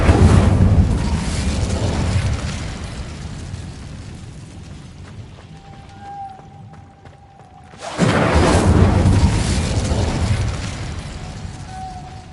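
The Incendio fire spell from Hogwarts Legacy erupts in a loud, dense roaring burst that sustains for several seconds, dies down to a quieter rumble, then flares up again just as strongly.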